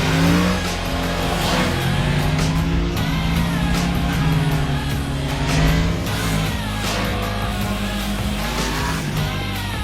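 Yamaha MT-10 (FZ-10) motorcycle engine revving loudly up close, repeated rising and falling throttle blips with a harsh, raspy exhaust note and no talking.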